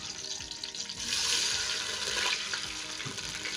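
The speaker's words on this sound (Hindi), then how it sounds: "और थोड़ा सा पानी डालेंगे" Water pours into a cooking pan of hot ghee and sugar for a syrup, a close, steady splashing gush that swells midway, with sizzling and stirring underneath.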